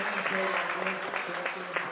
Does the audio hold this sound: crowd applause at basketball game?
yes